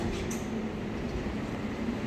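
Riding aboard an airport terminal shuttle train at Las Vegas airport, a steady low rumble and hum of the moving car with faint rolling noise, continuous and fairly quiet throughout.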